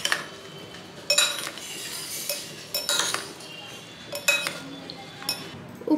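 A salad of tofu, peanuts and lettuce is tossed in a bowl with utensils, making repeated clinking and scraping knocks in irregular bursts, close and moderately loud against faint room background.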